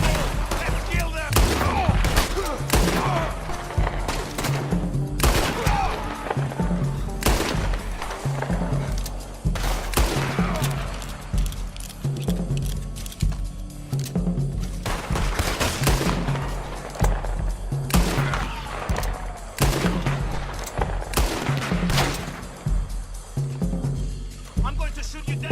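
Red Dead Online gameplay with repeated loud gunshots, some single cracks and others in quick volleys, spread through a long firefight. Voices come in intermittently between the shots.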